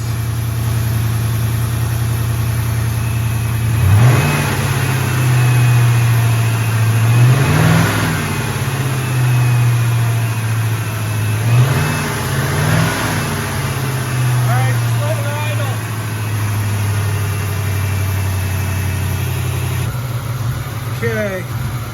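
A muscle car engine fitted with 3D-printed nylon carbon fiber parts idles low, then revs up in several surges, each rising and falling back, with a steady rumble throughout and some background talk.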